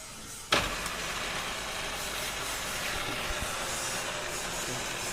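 A steady mechanical motor hum from a vertical milling machine runs throughout after a sharp click near the start, droning continuously without pause.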